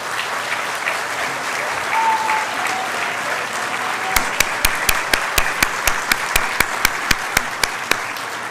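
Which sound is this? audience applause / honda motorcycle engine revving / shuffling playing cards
audience applause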